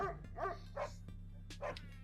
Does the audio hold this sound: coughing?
no